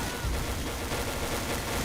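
Gunfire in the shooting game XSHOT: a dense, continuous stream of rapid shots fired in a sustained burst, loud and unbroken across the whole span, with no talk over it.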